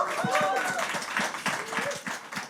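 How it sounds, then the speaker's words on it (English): An audience at a live podcast event gives a round of applause for a sponsor, a fairly quiet spread of rhythmic clapping from a small crowd, with some cheering voices mixed in. "So let's give a round of applause to Systrix."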